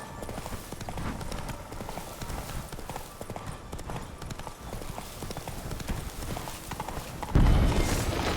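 Galloping horse hooves in The Witcher 3 clatter in a steady rapid clip-clop across a mountain descent, with a brief snort or whinny near the end and a sudden louder thud at the close.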